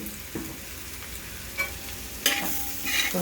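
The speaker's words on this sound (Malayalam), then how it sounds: "ഒന്ന് ഇളക്കി കൊടുക്കാം" Pork masala with coriander powder being stirred in a pan, a low sizzle under occasional spoon scrapes and clinks against the pan, with a sharper stir near the end, no speech.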